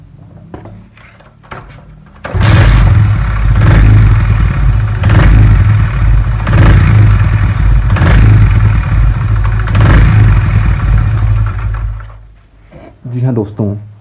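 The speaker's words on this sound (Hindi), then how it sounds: "मैं स्टार्ट करता हूँ बाइक को और आपको करके दिखाता हूँ।" A Honda CD 70 motorcycle engine starts up and then runs with repeated revving surges. It is loud and close, and the clip ends with a short burst of speech.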